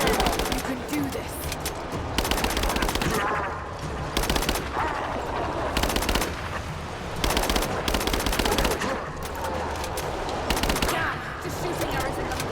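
Rapid machine-gun bursts and gunfire from Rise of the Tomb Raider, loud and close, coming in repeated surges with brief lulls between volleys over a dense combat mix.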